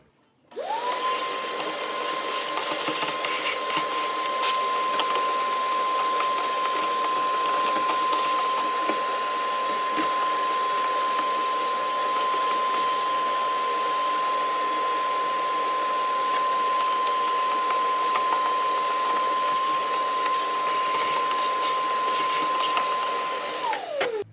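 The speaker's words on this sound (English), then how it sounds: "I'm gonna use a vacuum cleaner to clean all this out" A vacuum cleaner whines at a steady, loud pitch for over twenty seconds while cleaning a Cub Cadet XT1 engine, switching on abruptly and winding down at the end, with no talking.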